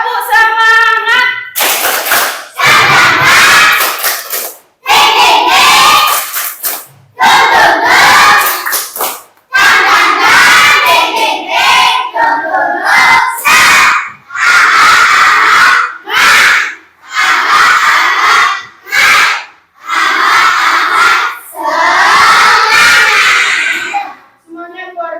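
A school class performs a rhythmic clapping-and-shouting spirit chant, loud bursts of unison clapping and voices in repeated phrases separated by short pauses.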